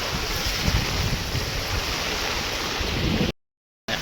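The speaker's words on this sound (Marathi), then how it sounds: "पाणी वरून केवढ्या जोरात फार्सने येतं आहे" Loud, steady rush of floodwater in heavy rain, with broadband roar, close to the microphone, running continuously before a brief cut to silence near the end.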